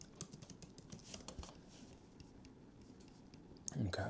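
Quiet typing on a computer keyboard, scattered light key clicks in uneven bursts, faint and close, with a voice briefly at the end.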